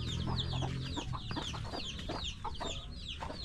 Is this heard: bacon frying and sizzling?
no